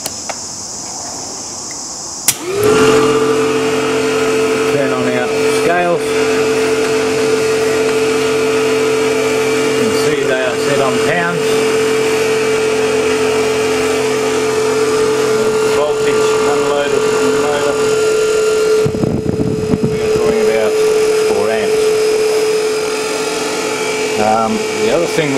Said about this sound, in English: So we will start up the machine now.